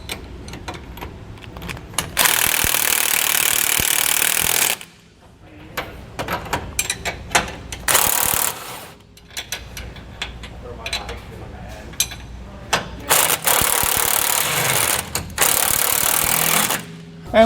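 Impact or ratchet tool tightening 15/16 upper and lower hanger bolts on a Roadmaster rear anti-sway bar for a 2013 Ford F-53, loud bursts of rapid hammering lasting a few seconds each, separated by quieter clinking pauses.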